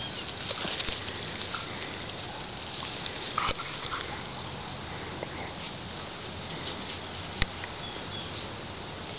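Faint puppy noises, soft snuffling and small movements close by, with a couple of sharp clicks over a quiet background hiss.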